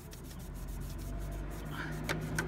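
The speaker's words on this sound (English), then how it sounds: "I've got an old cloth here. I'll rub it in." Faint, steady rubbing of an old cloth working polish into a discoloured car exhaust downpipe, a soft continuous scrubbing close by with a few light knocks near the end.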